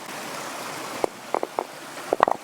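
An old Appalachian mountain stream runs in a soft, continuous wash, broken by several close, sharp splashes and gurgles that cluster near the end.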